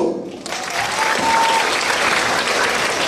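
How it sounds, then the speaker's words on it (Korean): Sustained applause from a middle-school assembly audience during a guest lecture, dense steady clapping that begins after a brief quiet moment and holds at full volume throughout. "격려하는 뜻에서 박수!"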